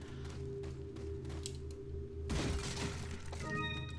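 Shotgun blasts break an object in the video game Resident Evil 4, heard as a loud crashing, shattering burst midway through over a steady droning game background.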